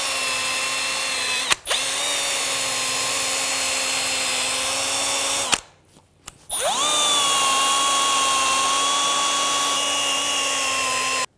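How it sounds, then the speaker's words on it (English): A power-driven wire brush whirs loudly and steadily against the steering knuckle surface of a 2003-2008 Honda Pilot during a front wheel bearing job, cutting out briefly twice before spinning back up, close and alone. "Using a wire brush, we're going to clean up the knuckle surface."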